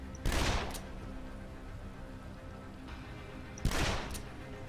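Gunfire in the zombie video game Dead Island, sounding as two sharp bursts of shots about three and a half seconds apart over a quiet, low background.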